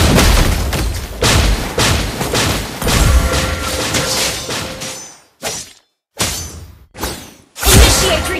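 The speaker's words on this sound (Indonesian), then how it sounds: "Your team destroyed a turret." Turret destruction explosion in the Mobile Legends game: dense crashing, booming bursts with shattering debris, then a few separate sharp blasts split by brief silences, loud and close.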